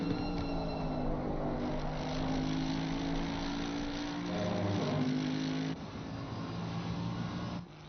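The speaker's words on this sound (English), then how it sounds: "How can you not love the sound of that engine?" A Mercedes GT3 race car in an endurance racing video game at Zolder revs hard, its engine note rising and falling through gear changes, loud and close with a brief dip partway through.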